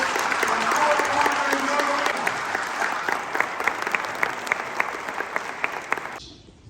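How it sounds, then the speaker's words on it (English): Warm applause from an audience at a Kosovo Independence Day ceremony at New York City Hall, steady dense clapping that sustains for several seconds before cutting off abruptly near the end, with a voice briefly heard over it. "A warm round of applause."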